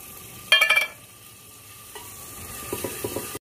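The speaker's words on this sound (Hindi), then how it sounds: "अपन ने प्याज नूं चंगी तरह भुन लेना जी" Onions fry in a pan in a rural Punjab kitchen, with a soft steady sizzle and a few sharp scraping stirs near the start and toward the end, heard up close with no talking.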